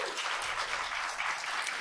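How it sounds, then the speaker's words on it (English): Dense audience applause at a conference event, a steady wash of many hands clapping throughout with no voices over it. "please, to give my team a round of applause"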